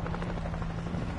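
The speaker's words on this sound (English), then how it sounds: "We got a chopper!" A helicopter in the video game World War Z flies overhead, its rotor chopping in a dense, rapid, steady rumble at moderate loudness for about a second.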